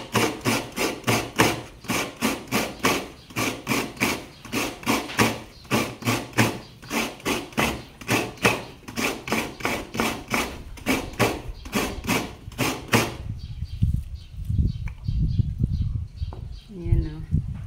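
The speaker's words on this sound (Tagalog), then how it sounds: "magkayod ng mano-mano na nyog" Fresh coconut grated by hand in rapid, regular scraping strokes for about thirteen seconds, close and loud, followed by softer rustling and handling of the grated coconut.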